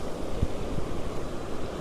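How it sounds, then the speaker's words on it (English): Ocean waves washing onto a sandy beach, a steady broadband rush of surf with wind noise, close and continuous, no voices. "I'm going to wait till these waves completely disappear."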